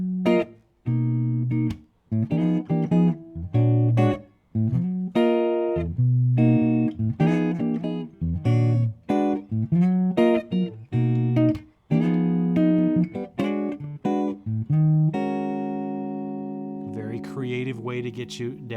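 Jazz guitar plays a turnaround chord progression, a flowing series of rich chords and passing notes, close and clear, ending on a sustained ringing chord.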